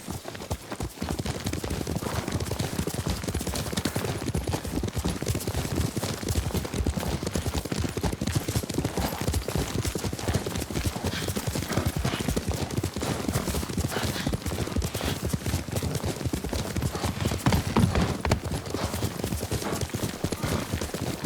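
A horse gallops in the Ghost of Tsushima video game, its hooves pounding in a fast, continuous clip-clop rhythm at close range for the whole stretch, with a faint whinny now and then.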